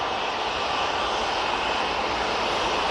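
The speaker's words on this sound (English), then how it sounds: "TUI, right in front of us, using the 737-800." TUI Boeing 737-800 airliner passing close at Manchester Airport, its jet engines giving a loud, steady broadband roar throughout with no talk.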